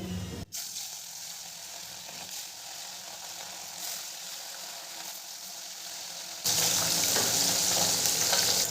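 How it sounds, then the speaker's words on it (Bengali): Steady, loud sizzling of fish frying in hot oil, a continuous crackling hiss that jumps noticeably louder partway through, with no voices. "তেলটা আমার গরম হয়ে গেছে, এবার আমি মাছগুলোকে দিয়ে দেবো।"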